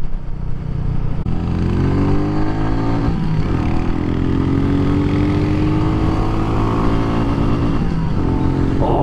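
Royal Enfield Meteor 350 cruiser motorcycle engine revving hard and steady near its limiter while climbing a hill, a loud continuous drone with rising and falling harmonics throughout, close to the rider.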